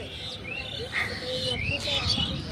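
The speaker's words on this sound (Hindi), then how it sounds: "चिड़िया सब देखा संगवारी हो कैसे आवाज आते करके।" Several birds chirp and tweet in short bright calls over a faint background murmur, fairly close.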